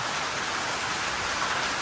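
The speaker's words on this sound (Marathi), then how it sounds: "एक तास झाला पाऊस पडतो जोरात" Heavy rain pours down in a dense, steady hiss, close and loud throughout, with no other sounds.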